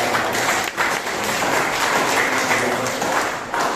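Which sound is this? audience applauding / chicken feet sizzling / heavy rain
audience applauding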